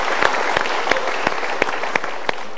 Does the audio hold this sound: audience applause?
yes